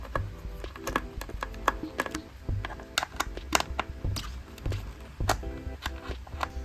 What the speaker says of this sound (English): So first we're going to take out the 2 screws on this speaker